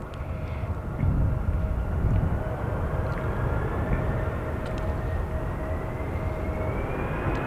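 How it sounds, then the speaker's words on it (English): A Delta jet airliner departs from runway 28 left on a windy day, its engines making a broad, steady roar that swells early and then holds, with a thin whine riding above it. "Deltas 1352 blasting out at 28 left."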